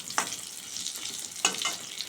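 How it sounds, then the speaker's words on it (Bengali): Potatoes frying in oil with five-spice seeds, a steady soft hiss broken by two sharp scraping stirs of the pan, close and moderately loud with no talking. "তেলে 5 ফোড়ন সম্বাদ দিয়ে আলুগুলো দিয়ে দিয়েছি। আলুটা ভাজা ভাজা হয়ে এসছে।"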